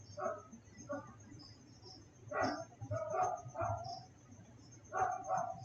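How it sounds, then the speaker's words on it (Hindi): A dog barking somewhere nearby indoors or just outside, with several separate bursts of barks and yips spread across a few seconds and faint background noise between them. "कुत्ते की आवाज़ आ रही होगी शायद आपको।"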